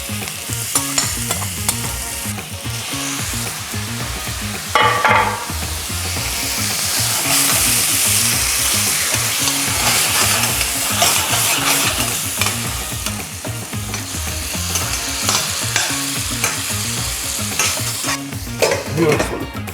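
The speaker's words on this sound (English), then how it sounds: "Next, we're going to be adding our prawns in here." Prawns hit a hot pan for a mango prawn curry and fry loudly, a steady dense sizzle with stirring scrapes throughout, no voices.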